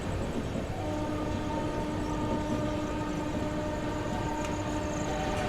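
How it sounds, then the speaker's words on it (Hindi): The Ajmer Sealdah Superfast Express with a WP7 locomotive passing on Indian railway tracks: a continuous loud rolling rumble of wheels and coaches with a sustained horn tone running through it. "अभी जो हमने वो ट्रेन देखी वो ट्रेन थी अजमेर सियालदा सुपरफास्ट एक्सप्रेस"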